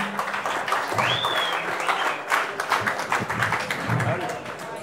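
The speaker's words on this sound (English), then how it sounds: "Let me give a round of applause, please." An audience at a talk on the history of Bitcoin applauds, a dense patter of clapping from a roomful of people with a voice speaking over it.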